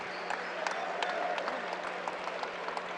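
A crowd in a college men's basketball gym applauds a player leaving the game, a dense, steady patter of clapping heard at a distance, with a faint voice underneath.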